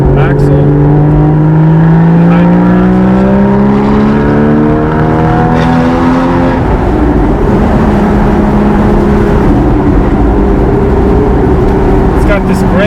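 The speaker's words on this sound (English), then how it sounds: "It's got this great burble tune." A Porsche Boxster Spyder mid-engine runs while driving, its steady deep tone rising gradually before settling into a rougher, grittier burble, continuous and near with someone talking over it.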